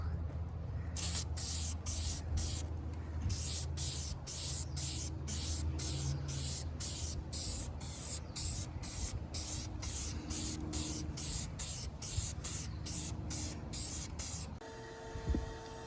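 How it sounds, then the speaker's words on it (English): Repeated short hissing bursts from an aerosol can of rust neutralizer, about twenty quick sprays in steady rhythm, with low rumbling background noise beneath. "I'm gonna show you me shaking it like a dumbass and spraying it like a god"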